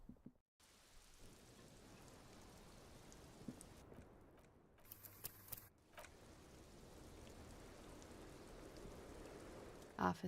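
Steady rain in the Disco Elysium video game falls as a continuous soft hiss, with a brief gap and a few louder patters and taps partway through, faint and even.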